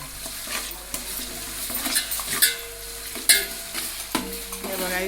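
Ginger-garlic paste sizzles with browned onions in a pot of biryani being cooked at a village festival, with steady close frying hiss and repeated scraping clinks of a spoon stirring against the metal.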